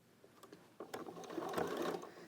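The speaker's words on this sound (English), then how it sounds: "I am doing a little bit of a, back stitch here" A sewing machine runs a short back stitch along the edge of a lined curtain, its motor whirring quietly at first and then louder and steady with a rapid mechanical clatter. Nobody speaks over it.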